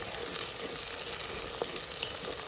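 Onions and garlic fry in a pan for a lamb and date stew, crackling in a close, continuous sizzle with scattered sharper pops.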